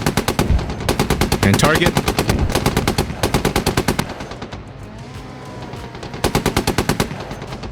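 Bursts of rapid machine gun fire hit a BTR armored vehicle in the tank game Gunner HEAT PC, loud and close, pausing for a few seconds before resuming. A voice speaks briefly between bursts.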